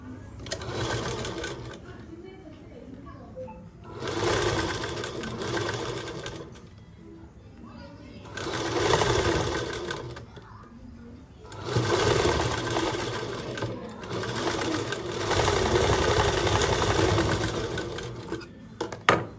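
Sewing machine stitching a school skirt, running in several steady bursts of a few seconds each with brief pauses between, close and fairly loud, a voice speaking intermittently over it.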